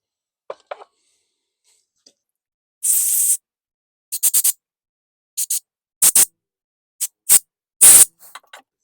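Carburetor cleaner sprayed into a snowblower carburetor on a Craftsman 208cc engine: a series of short, close hissing spray bursts, one longer blast then several quick ones, with brief handling clicks in between.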